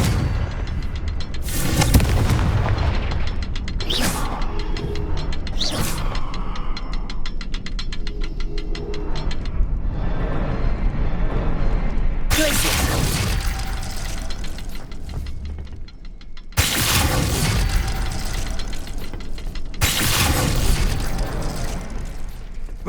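Confringo fire spells in the video game Hogwarts Legacy burst into a series of loud, booming explosions, several sharp blasts separated by rumbling gaps over continuous game sound.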